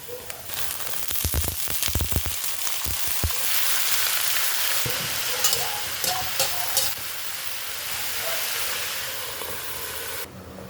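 Garlic, ginger, onion and chili hit a hot pan in several sharp bursts of sizzling, settling into a steady loud frying hiss with occasional stirring clatter, no talk.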